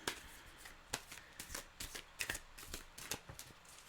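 Playing cards being shuffled by hand, a close, crisp run of riffling flicks and soft slaps in an uneven rhythm, with no talk.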